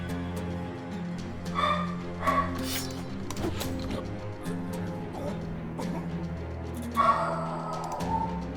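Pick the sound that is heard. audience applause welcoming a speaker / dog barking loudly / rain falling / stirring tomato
dog barking loudly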